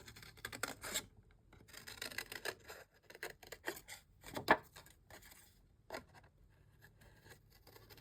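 Scissors cutting sheets of watercolor paper: quiet, close, irregular snips and rasping slides of the blades through paper, arriving in short clusters with brief pauses between cuts.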